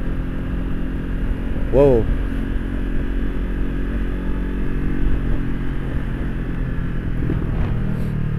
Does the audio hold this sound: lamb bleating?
no